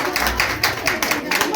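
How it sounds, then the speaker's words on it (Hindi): An audience claps during a stage welcome at a New Year 2023 celebration: steady, fairly loud crowd applause with bursts of clapping throughout, nearby, and a voice speaks briefly over it. "स्वागत के दौरान तालियां कंटिन्यू रखिए प्लीज"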